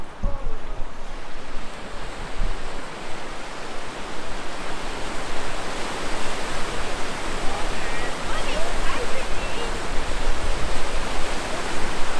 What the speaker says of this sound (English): look at this water. It's really rough.